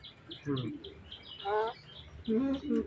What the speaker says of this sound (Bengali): এই আমরা দেখলাম তিনটা ময়না পাখি